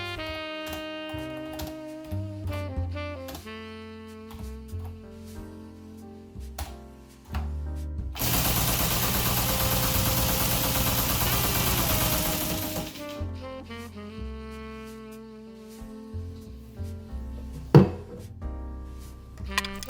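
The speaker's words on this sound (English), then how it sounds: "When connected up, I could successfully control the Teletype motor." A Teletype Model 15 teleprinter motor runs in a steady, loud whirring hum for about five seconds. Quieter mechanical clicks and musical tones come before and after it.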